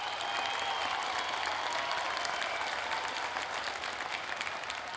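Steady, even audience applause for a music director on a televised masked singing competition show, a continuous wash of many hands clapping at moderate loudness with no voices standing out.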